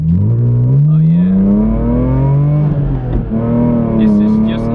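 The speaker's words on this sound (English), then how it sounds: "The rev matching is a lot more direct now." A race car engine revs and climbs steadily on the Nürburgring, loud and close from inside the cabin, with a brief dip and blip as it rev-matches before pulling again.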